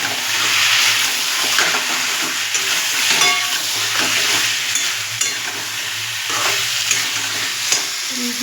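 Potatoes and meat masala frying in a pan, stirred a couple of times: steady loud sizzle with scraping stir strokes throughout, close up, no talking.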